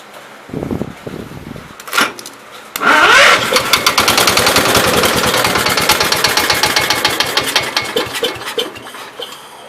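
A 1969 Gravely 432 walk-behind tractor engine with a loose throttle shaft gives a few short knocks, then catches and runs loudly nearby with a fast, steady, slightly uneven firing rhythm.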